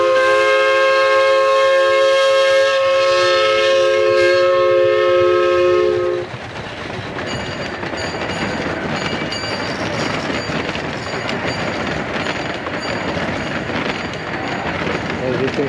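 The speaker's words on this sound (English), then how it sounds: "Quiet little train, huh?" A miniature scale steam train with a little caboose comes around a bend in a Berkeley park, sounding a loud sustained multi-tone whistle for several seconds before rolling past with a steady rumbling clatter.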